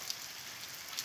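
Rain pours at dawn in Guarabira, Paraíba, an even, continuous hiss of falling water with a couple of faint sharper drips, no voices present.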